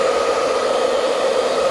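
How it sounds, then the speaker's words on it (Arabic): Hair dryer on medium heat blowing air to dry a cat, a steady close whooshing roar that holds constant throughout without any voices. "مش عايز اعمل الاستشوار على حرارة عالية، انا عايزه على حرارة متوسطة"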